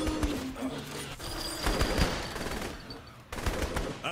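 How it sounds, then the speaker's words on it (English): A minigun firing in Saints Row the Third Remastered, rapid close bursts of gunfire with brief pauses and metallic mechanism whine, loud throughout with a short lull before another volley. "Minigun up top!"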